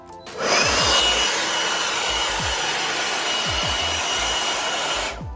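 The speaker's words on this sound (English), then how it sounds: "I gotta get the leaf blower and get it out of here." A leaf blower roars steadily up close while blowing a spider out of a home, a continuous loud airy whoosh with a few low knocks and bumps underneath, and no talking.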